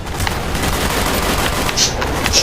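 Gunfire in the video game Call of Duty Black Ops, a dense continuous burst of shots with a couple of brighter cracks near the end, loud and steady throughout.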